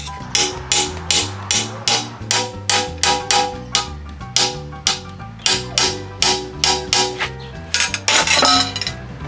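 Corners being cut on a glass window pane for a minimal-style window, a run of about sixteen sharp, evenly spaced tapping strikes close by, ending in a quicker, denser burst.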